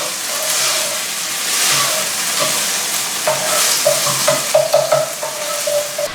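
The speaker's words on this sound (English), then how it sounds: "So what I'm going to do at this point is incorporate some of this barbecue beef." Vegan barbecue beef sizzles in a hot pan with a steady frying hiss, joined toward the end by a quick run of close scraping and stirring clatters.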